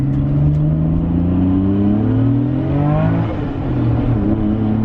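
Nissan Skyline R34 M-Spec Nür engine revving to around 5,000 rpm, a loud, close rising howl with climbing harmonic pitch that peaks, drops briefly and picks up again, heard alone without talk.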